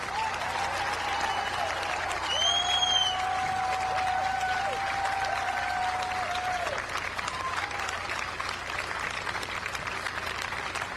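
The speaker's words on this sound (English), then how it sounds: "They deserve our applause." A crowd at Ground Zero in New York applauds victims and heroes in a steady, moderately distant wash of clapping that continues throughout, with a brief whistle-like tone near the start and little voice.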